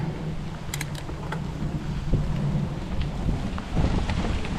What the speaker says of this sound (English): Unfortunately, it is just dumping rain, but we're still gonna send it